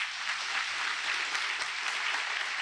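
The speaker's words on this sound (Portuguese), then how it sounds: "Aplauda bem forte ao Senhor." Applause from a congregation, steady and fairly soft, a continuous wash of clapping with no talking.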